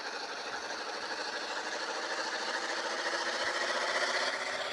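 A car engine in a driving video game hums steadily in a continuous mechanical drone, holding an even, moderately loud level throughout with no voices.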